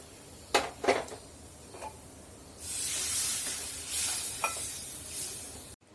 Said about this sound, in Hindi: ये तेल है थोड़ा सा, इसमें ये जीरा डाल दी हूँ, और ये आलू भी छील ली, और थोड़ा सा ही गरम मसाला, और इसको फ्राई कर रही हूँ